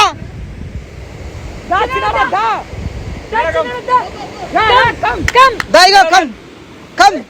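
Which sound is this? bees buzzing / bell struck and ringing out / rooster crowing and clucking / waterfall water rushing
waterfall water rushing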